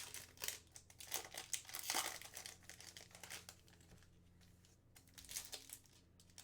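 Quiet crinkling and tearing of foil wrappers as hockey card packs are opened, a soft continuous rustle with small crackly bursts close by.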